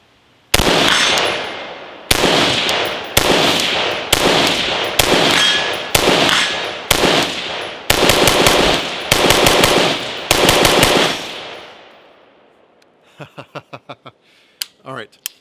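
Rapid string of loud, close rifle shots from an 18-inch .223 barrel fitted with a VG6 Gamma muzzle brake, about a dozen cracks in a steady cadence with a metallic ring after each, then fainter clinks of brass at the end.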